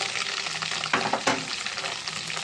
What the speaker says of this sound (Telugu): ఒక 3 స్పూన్లు ఆయిల్ వేసానండి బెండకాయ ముక్కలు ఫ్రై చేసుకోవడానికి